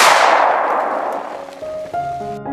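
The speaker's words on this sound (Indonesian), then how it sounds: "suara tembakan terdengar." A single loud gunshot with a sharp blast that decays into a ringing tail, followed by faint tonal sounds.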